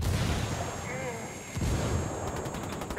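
Gunfire from the video game Ghost Wars: a steady bed of rapid shots and crackle throughout, with a heavier burst around the middle that fits a grenade going off, plus faint voices under the firing.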